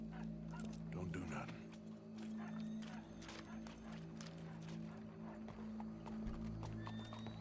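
Horse hooves clip-clopping with a neigh in Red Dead Redemption 2, set against steady in-game ambience and other animal sounds, with speech mixed in.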